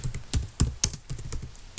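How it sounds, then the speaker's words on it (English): Keys clack on a computer keyboard while someone types text for an HTML and CSS website project, with several distinct, sharp, close strokes in an uneven rhythm and brief pauses between them. "I'm simply typing here convent"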